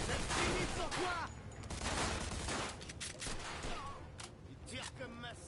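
Rapid gunfire in the Mafia II video game, dense bursts and shots filling the whole stretch, with excited voices talking over the shooting.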